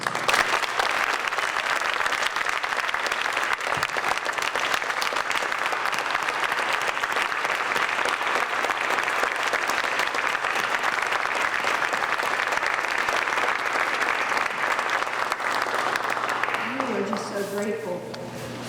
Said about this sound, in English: join me in a rousing round of applause for the generosity of the Masons in the state of Kansas